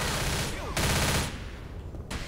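Sustained automatic gunfire rattles while shooting zombies in the video game Left 4 Dead, loud and continuous with brief pauses, and a player talks quietly beneath it.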